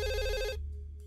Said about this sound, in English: I should probably pick up that phone.